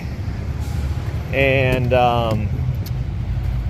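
Diesel pickup with a 1997 Cummins 12-valve engine and a six-speed, idling with a steady low clatter and rumble while someone talks briefly over it.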